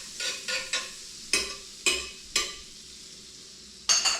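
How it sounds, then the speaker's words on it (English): Butter on a hot griddle: a quiet sizzle runs throughout, broken by a series of soft scraping strokes in an uneven rhythm, then a brief pause before one last scrape, close by with no talk. "Let's put some butter on the griddle."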